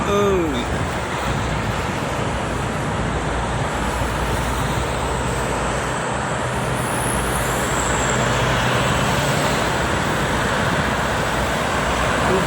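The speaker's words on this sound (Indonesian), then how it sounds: "Anginnya kencang" Strong wind roars continuously against the microphone, a dense rushing noise with low rumble and no pauses throughout.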